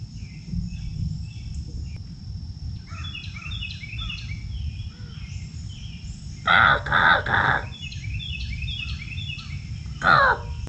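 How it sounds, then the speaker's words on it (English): Crows caw in a park, a few harsh calls in short clusters, mostly at moderate distance with one louder near burst, over a constant bed of buzzing insects and crickets. "I'm up at this park and I hear some crow calls going on."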